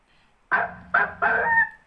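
Three quick honking, bark-like synthesized tones in a row from a Korg PA600 keyboard's dog-bark sample, nasal and buzzy, played close after a moment of near silence.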